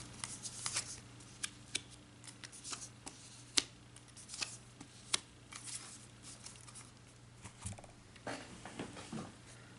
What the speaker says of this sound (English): So let me lay these out and then I'll see what those cards are that fell out.